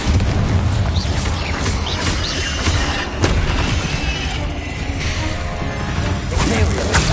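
Confringo blasting spell explosions in Hogwarts Legacy, loud repeated bursts and crashes amid dense continuous spellcasting combat noise, with a few sharper impacts standing out.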